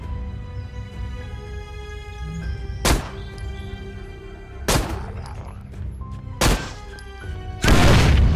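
Several sharp gunshots ring out one at a time over a steady background hum, with a louder burst closing the sequence, in the video game Zompiercer.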